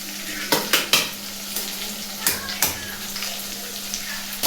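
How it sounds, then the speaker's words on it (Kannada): A spoon clatters in a pan while pepper chicken is stirred with ground spice powder in a home village kitchen: several sharp scraping knocks over a steady low sizzle, close and moderately loud. "ಅದಾದ್ಮೇಲೆ ಆ ಮಸಾಲೆನ ಕಂಪ್ಲೀಟ್ ಆಗಿ ಮಿಕ್ಸ್ ಮಾಡಿ"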